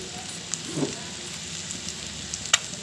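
Steady soft sizzle of eggs frying in a pan with chili powder, a low continuous crackle close by with a few small pops and a light stir.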